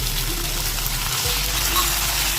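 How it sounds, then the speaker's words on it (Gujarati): Water splashed into a pan of cluster beans (guvar) that are frying, giving a steady, loud sizzling hiss with a faint low rumble underneath. "હવે ગુવારને આ રીતના શેકી લીધા પછી તેમાં થોડું 2 ચમચી જેટલું પાણી એડ કરશું"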